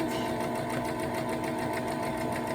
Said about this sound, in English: And I'm just sewing it straight like that.